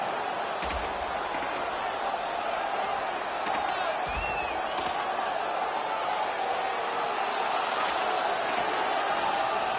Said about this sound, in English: You can hear the crowd. They knew who won that fight.